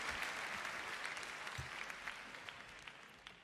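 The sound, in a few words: audience applause at Royal Albert Hall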